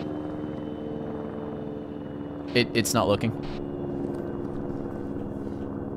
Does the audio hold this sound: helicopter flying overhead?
yes